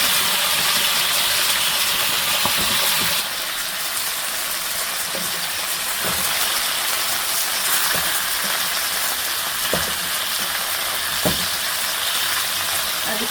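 Chicken pieces coated with a little food colouring fry in hot oil for chicken korma, giving a steady, close broadband sizzle with a drop in level early on and faint clinks throughout.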